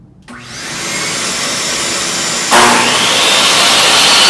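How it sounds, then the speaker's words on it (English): A shop vacuum starts up in a woodworking shop and runs as a loud, steady, close whooshing roar, stepping up sharply in intensity midway and staying loud to the end, with no talking. "I'm going to turn on the vacuum."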